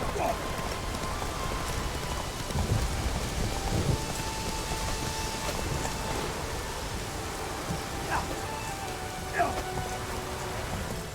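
Steady rain pours and patters on surfaces in The Witcher 3 open-world game, a dense continuous hiss with scattered drops close by. Any thunder stays faint under the rain, and soft speech drifts underneath.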